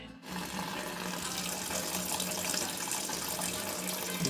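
Water runs steadily from a tap while homebrewing an Oktoberfest beer after drawing off clear wort, a continuous close hiss and splash lasting the whole stretch with no voices.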